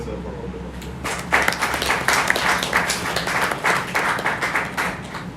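Graduation ceremony crowd bursting into sustained applause after a quiet moment, a dense steady roar of many hands clapping that stays loud for several seconds.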